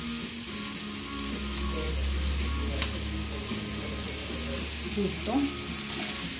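Onion sautéing in a pan sizzles and fries steadily throughout, with occasional stirring clatter and a brief word spoken over it.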